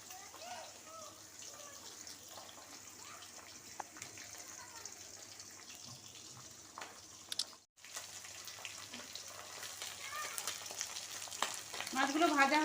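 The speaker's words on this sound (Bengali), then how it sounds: "খুব ফাটে ট্যাংরা মাছ, পাবদা মাছ। একটু লবণ দিয়েছি তেলে," Tangra and pabda fish frying in salted oil, a steady crackling sizzle that runs throughout, cuts out briefly near the middle and grows louder and busier toward the end.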